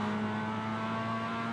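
In the iRacing Global MX-5 Cup sim racing game at Charlotte Roval, a race car engine drones at a steady high pitch with a constant tonal whine, close and loud, briefly as cars run alongside.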